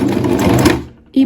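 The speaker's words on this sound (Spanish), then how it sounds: "Igualmente al llegar al final damos un par de puntadas para detrás" Sewing machine back-stitching the corner of a Longchamp bag under repair, a close rapid whirring run that stops for a moment and then starts up again.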